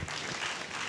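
Audience applause at an opening plenary session right after a group photo, a brief, steady wash of clapping from a crowd, fairly faint and continuous throughout.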